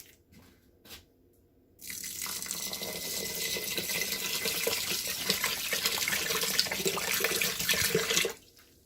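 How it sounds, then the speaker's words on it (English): Tap water runs steadily into a pot for several seconds, a hissing splashing stream that starts abruptly and stops, preceded by a couple of light clinks. "I'm going to do 4 cups of water into this."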